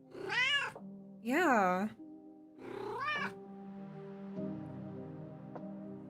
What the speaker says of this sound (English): She sounds like a cartoon cat, you know? She's got such a meow meow.